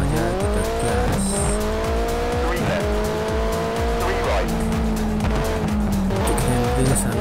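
Rally car accelerating hard in the mobile racing game Rush Rally 3, a loud continuous engine note rising through repeated gear shifts with tire squeal, under occasional talk.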